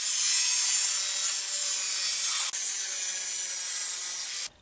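A saw cuts steady strokes through sheet steel for a Citroën Traction 11B body panel, guided along an aluminium ruler; a continuous bright rasping scrape runs alone for about four seconds, with a brief break midway, before stopping abruptly.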